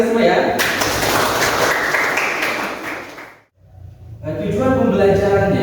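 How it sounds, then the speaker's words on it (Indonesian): A classroom of students applauds together, with a dense burst of hand clapping for a few seconds that stops abruptly, followed by a voice speaking. "untuk tepuk tangan dari kita semua ya"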